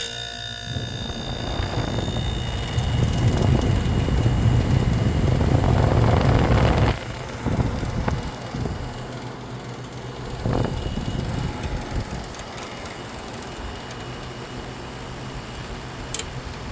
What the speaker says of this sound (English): I want to hear this compressor without the noise